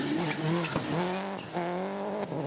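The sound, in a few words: rally car driving hard round a corner, tyres squealing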